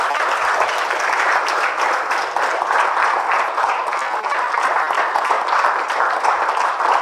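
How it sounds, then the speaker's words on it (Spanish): A church congregation claps together in sustained, steady applause, a dense wash of hands filling the room with no break from start to finish. "¿Podemos darle un aplauso al Señor?"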